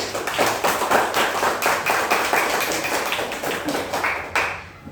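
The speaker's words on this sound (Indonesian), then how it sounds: "Tepuk tangan untuk Melati." Students in a Grade 5 elementary classroom clap their hands together in a steady, fairly loud burst of applause lasting several seconds, then the clapping tapers off near the end.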